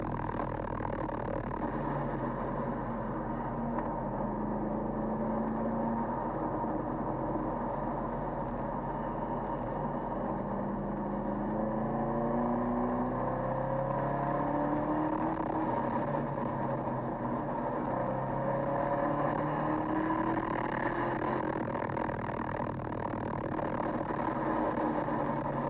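A stock Chevrolet Camaro ZL1 runs hard down a long track straight at about 133 mph, its engine a steady, continuous drone with rising tones, heard from inside the car with no talk.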